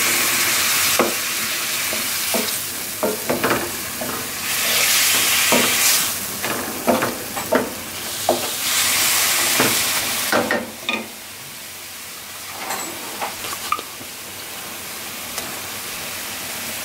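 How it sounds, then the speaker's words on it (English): A chayote and mushroom filling being stirred in a hot frying pan, steady loud sizzling broken by repeated scraping and clacking strokes of the utensil, with the sizzle dropping off toward the end. "We're gonna stir all of this in here."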